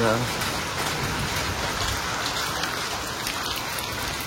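Steady rain falls throughout, a dense, even hiss with scattered drop patter and a brief voice at the very start.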